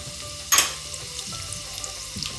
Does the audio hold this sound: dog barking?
no